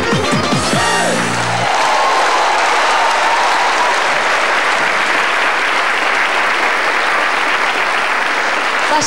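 An audience applauds a cabaret duo with sustained, dense clapping that fills the room, loud and steady after a brief moment of other sound at the start.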